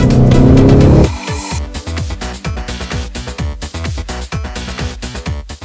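An Audi RS7 driven hard along a winding, twisty road: a loud, raspy engine note pulses through rapid gear changes and revs, up close and without talk, after a brief burst of louder rushing noise.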